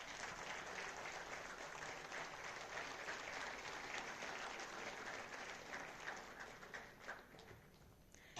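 Audience applause for the runners-up at an international moot court competition ceremony, dense continuous clapping heard from a distance in a hall, fading slightly toward the end.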